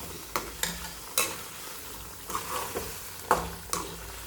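Chana masala gravy with boiled chickpeas being mixed and sautéed in a pan: a soft sizzle beneath roughly eight distinct, uneven spoon strokes scraping and thumping close by, with no talking.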